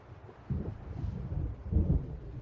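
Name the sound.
thunder of an approaching storm in video game Alan Wake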